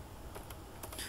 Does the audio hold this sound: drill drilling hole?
no